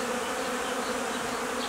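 Honey bees buzz at a hive in February, a dense, steady, close drone with no pauses and nothing else heard.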